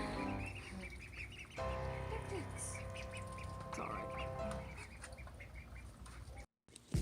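Ducks quack in bursts near and far in a big yard under steady background noise, while a person speaks briefly.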